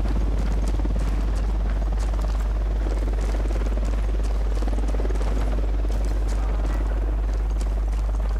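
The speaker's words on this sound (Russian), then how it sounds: "Вертушка единства на подлете." Enemy Unidad helicopter flying in the video game Ghost Recon Wildlands, a loud, continuous low rotor drone with rapid blade chopping, heard close and alone.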